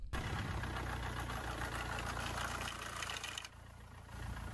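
A car engine with a loose timing chain idles with a steady, slightly rattly mechanical drone that drops a little in level near the end.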